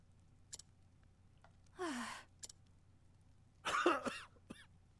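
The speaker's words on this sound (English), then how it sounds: "Coughing, coughing." A character in the Octopath Traveler video game gives a couple of short, close coughs and throaty exhales, with quiet pauses between them against a soft background.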